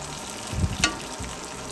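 Butter and Wagyu fat with garlic and herbs fry around a ribeye steak in a cast iron pan, giving a steady close sizzle with a brief stir or clatter partway through and no talking.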